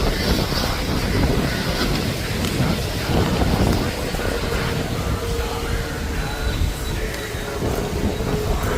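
Strong wind buffeting the microphone at an RC model airfield, steady loud roar with gusty rumble throughout, no clear talk.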